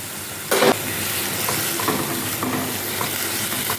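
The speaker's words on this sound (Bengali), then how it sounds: "পালং শাক খুবই নরম ছিল, যার জন্য ঝোলের পর দিয়ে দিচ্ছি" Soft spinach goes into a simmering small-fish curry with a brief clatter, then a steady close bubbling sizzle with occasional light stirring scrapes, no talking.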